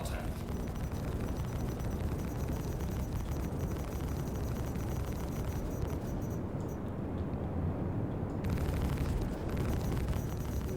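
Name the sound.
cannon explosions in a video game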